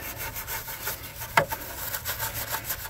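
Stiff bristles scrub a neglected car tire, working brake dust and road grime off the rubber and hubcap in rapid, steady rasping strokes with one sharper scrape in the middle, close and alone.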